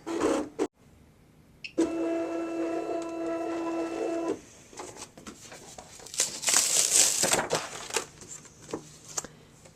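Electronic craft cutting machine cutting card with the blade at 6 and speed and pressure set to fast: a steady motorised whir for a couple of seconds, then bursts of scraping, rustling carriage movement and clicks.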